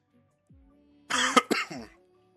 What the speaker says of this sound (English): Cough really trying to creep back in.